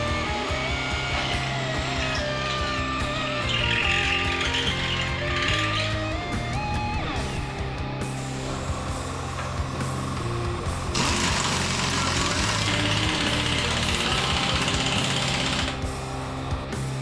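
Power drilling during a full hydraulic steering install on an independent-front-suspension 4WD, a long grinding, ratcheting mechanical run with surging high-pitched bursts and clicking, close and loud throughout with no talking.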